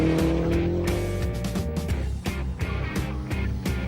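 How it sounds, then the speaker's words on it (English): A Westfield sports car races a motorbike on a track, its engine roaring loudly and continuously up close, with gear-change dips and rising revs over a few seconds. "By radar, the super-glued Westfield is a second ahead."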